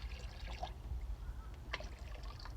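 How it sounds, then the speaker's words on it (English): Inoculant extract for a soil microbial drench poured into buckets, heard as soft trickling and splashing with a couple of brief liquid spatters over a low steady background rumble. "I'm just going to take this and dump a little bit in every bucket"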